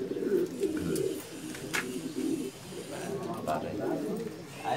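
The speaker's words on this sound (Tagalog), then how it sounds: "May dumating po tayo isang kaibon." A racing pigeon coos softly and repeatedly at its loft, with people talking throughout over the low, rhythmic bird calls.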